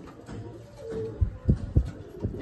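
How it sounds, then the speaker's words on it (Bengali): A female tippler pigeon gives a few low, throaty coos, soft and close, with short pulsing bursts near the end. "এই একটা আছে টিপলার পায়রা।"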